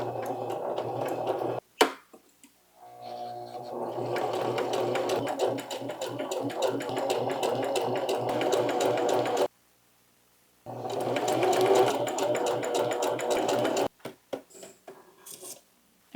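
A sewing machine stitches fabric with a steady mechanical whirr in two long runs, separated by a short pause, with a few clicks before and after.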